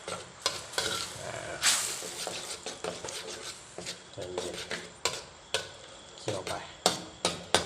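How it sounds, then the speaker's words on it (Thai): Snakehead fish basil stir-fry being stirred and simmered in a pan, with repeated sharp scrapes and clacks of a utensil against the pan over a steady sizzle, close and fairly loud. "ค่อยๆเคี่ยวไม่ต้องใจร้อนใจเย็นๆ"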